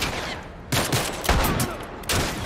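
Heavy gunfire from a weapon in The Last of Us Part 1, several loud blasts in quick succession over a dense, noisy game soundscape.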